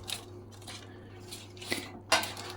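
A plate is picked up in a home kitchen while eggplant parmigiana is being made, giving a few light ceramic clinks and knocks spread across a couple of seconds, with a sharper clatter near the end and a low background hum.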